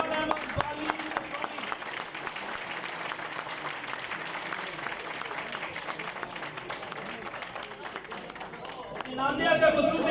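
Audience clapping welcomes a poet at a gathering, crisp individual claps forming a lively irregular patter that runs for most of the clip, with a voice briefly heard near the end.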